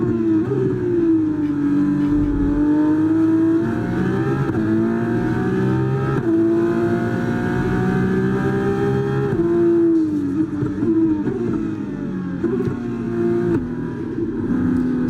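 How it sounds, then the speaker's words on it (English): A Formula 2 car's engine in F1 24 on the Las Vegas circuit, heard from the cockpit: a loud, droning exhaust note that holds steady, climbing in pitch under acceleration and dipping between gear changes, with no voices over it. "the F2, audibly from in the cockpit, the exhaust note is a little bit drony"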